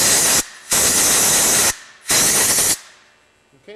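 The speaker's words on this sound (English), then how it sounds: "I'm going to take my air blower and I'm going to blow in and around the spark plug before I remove it" Compressed air blower hissing around a spark plug to clear dirt, two loud bursts of about a second each separated by short pauses, close and harsh, ending with a faint click.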